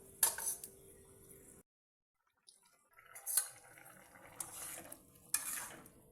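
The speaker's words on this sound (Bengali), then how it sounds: "মশলাগুলো আর সবজিগুলোকে ভালো করে একবার ফ্রাই করার জন্য রাখবো।" Spices and vegetables for a vegetable arhar dal fry in a pan, with a soft steady sizzle under sharp clinks and scrapes of a utensil against the pan, a brief pause, then renewed stirring with a few louder knocks.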